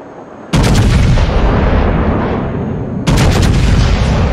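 Tank cannon fire in a tank video game: two loud, close booms, each a sudden blast that rolls into a long, heavy rumble.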